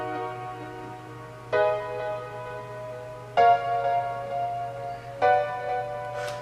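Sustained minor chords are played in a music production program, three broad synth-like chords entering one after another at steady intervals, each ringing out over a constant low hum.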